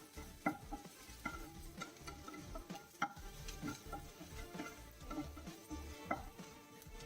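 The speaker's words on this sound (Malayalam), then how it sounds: "ഇഞ്ചിയും വെളുത്തുള്ളിയും ഒന്ന് ജസ്റ്റ് ഒന്ന് വഴറ്റിയെടുക്കാം" Ginger and garlic sautéing in a pan over a medium flame with curry leaves, a steady close sizzle broken by repeated scraping and stirring clinks of a spoon against the pan.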